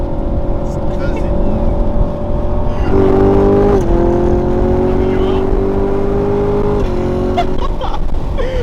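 A Ford Mustang engine revs up loudly nearby, its pitch rising and holding for a few seconds before dropping, over a constant rumbling, windy background.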